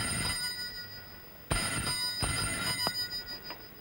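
An old telephone rings indoors in a vintage Kannada film scene, a bright metallic bell ring breaking in sharply after a quiet stretch, with short repeated bursts that are moderately loud.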